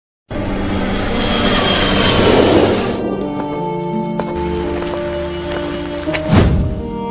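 Airplane engine roaring loudly at first, then dropping to a lower steady drone with tonal hums, broken by a few dull thumps and a rising whoosh near the end.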